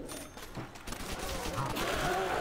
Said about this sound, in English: MP40.